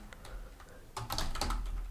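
Someone types on a computer keyboard in a quiet room, a few soft scattered key clicks at first and then a denser quick run of taps, close and fairly faint.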